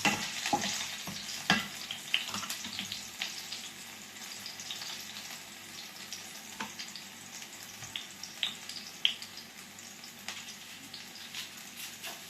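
Garlic frying in a pan over low heat for pakbet, a continuous faint sizzle with scattered small crackles and utensil clicks throughout, no talking.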